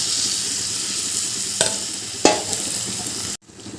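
Yogurt-marinated chicken with garlic paste sizzles loudly in a pan, a constant hiss marked by two clanks of a utensil, then the sizzle cuts off abruptly and returns quieter.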